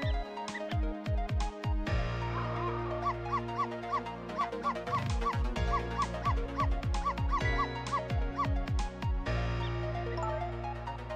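A cartoonish dog bark sound effect from the video game Ghost Trick: Phantom Detective repeats rapidly in a steady, yappy rhythm over looping game music, loud and continuous throughout.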